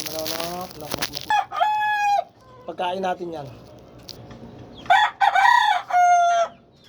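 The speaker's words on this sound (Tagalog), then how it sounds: "Yan ang ating mga manok." A white fighting cock crows several times in drawn-out calls, close and loud, with someone talking between and around the crows.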